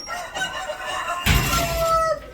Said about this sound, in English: What is a rooster on the balcony?